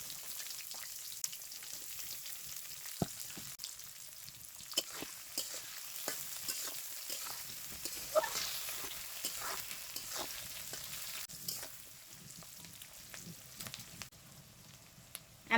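Cinnamon, cardamom, bay leaf and onion fry in hot oil for chicken biryani, giving a soft continuous crackling sizzle with scattered ticks and light stirring scrapes throughout, close but fairly quiet.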